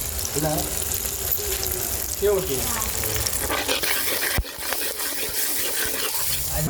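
Steady sizzling of spices frying in hot oil for mushroom thokku, with stirring and clinking, close and continuous throughout.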